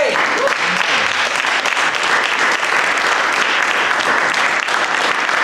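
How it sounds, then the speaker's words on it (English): A church congregation at an ordination service gives a hand clap of praise, steady dense applause filling the room at full loudness for several seconds without a break. "Give God a hand clap of praise."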